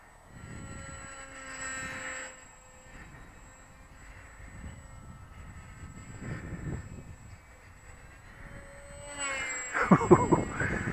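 Model airplane flying a loop, its thin propeller engine whine rising and falling at a distance over an open field, with a louder burst of wind noise near the end.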